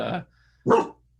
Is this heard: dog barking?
yes